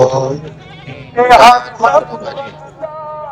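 Goats at a goat market in Dina bleat in loud, close, wavering cries, one strong call standing out among shorter ones, under a man's speech and the bustle of the market.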